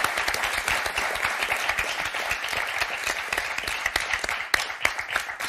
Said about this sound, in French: On va applaudir très fort.